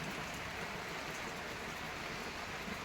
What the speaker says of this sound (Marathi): तर अशा पद्धतीनं आमच्याकडं पाऊस चालू आहे मित्रांनो